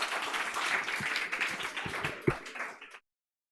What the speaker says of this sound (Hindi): ताली मारिए इनके लिए